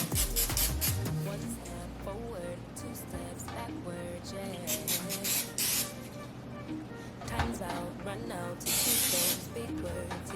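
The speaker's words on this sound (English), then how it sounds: "you wanna spray it with pan. Spray the pan." A short hissing burst of cooking spray onto a pan near the end, heard over music and a voice talking.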